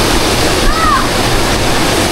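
A waterfall on a tree farm in Bailen, Cavite roars loud and constant close by, a dense broadband rush filling the whole moment, with voices faint beneath.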